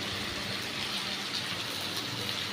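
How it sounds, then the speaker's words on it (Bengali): Chopped onion and capsicum frying in hot oil for dry chilli chicken give a steady, dense sizzle that hisses evenly and fairly loud throughout, with no voices over it. "এর মধ্যে আমার সেই কেটে রাখা ভেজিটেবিল, পেঁয়াজ আর ক্যাপসিকাম দিয়ে দিলাম এখানে আমি।"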